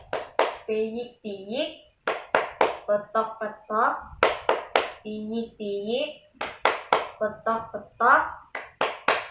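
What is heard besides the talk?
hands clapping in a children's clapping song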